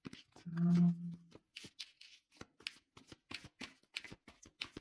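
Tarot cards are handled and shuffled close up in quick, crisp riffling bursts and soft flicks, with a brief low hum near the start.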